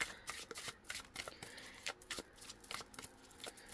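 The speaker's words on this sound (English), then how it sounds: "I shuffle until certain cards call to me" Tarot cards shuffled by hand in rapid, continuous riffling and slapping, close and fairly quiet, with no voices.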